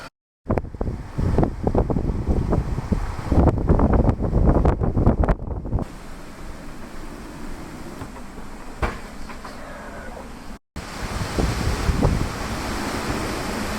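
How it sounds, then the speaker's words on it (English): Strong gusty wind buffets the microphone in loud rumbling bursts aboard a sailboat, then settles into a steadier windy roar outdoors with a brief cutout near the end. "It is windy."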